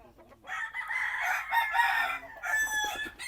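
Roosters crow loudly and repeatedly, one long crow after another, with chickens clucking underneath at a tethered-gamefowl breeding farm; no talking.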